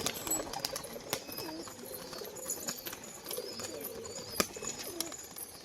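A male pigeon coos with soft, low murmuring calls, kept up steadily through the clip, with faint chirps and a few sharp clicks and wing sounds nearby.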